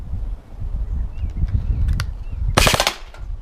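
A G&G CM18 Mod 1 airsoft rifle fires a fast full-auto burst outdoors, a sharp, loud rattle of rapid shots lasting under half a second after a stretch of low ambient rumble and a few faint clicks.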